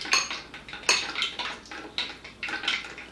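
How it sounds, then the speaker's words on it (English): A utensil whisks an egg mixture for deep-fried eggs in a bowl, making quick rhythmic clinks and scrapes against the sides. The taps come in uneven bursts, close and fairly loud, with no voices. "Now I'm going to mix this up."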